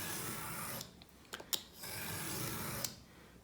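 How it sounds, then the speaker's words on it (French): A craft knife is drawn through cardboard along a metal ruler, giving quiet scraping strokes broken by a few sharp little clicks and ticks, fairly faint with no talking. "Je ne vais pas essayer de couper mon carton d'un seul coup."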